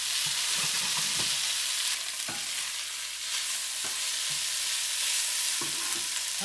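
Pork and celery stir fry sizzling in a pan, a continuous bright hiss broken by several sharp scraping clacks of a utensil stirring the meat, with no talk.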